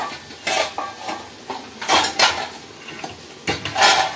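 Raw washed chicken going into a cooking pot, with a series of clanks and scrapes of a utensil against metal and a light sizzle, in irregular bursts.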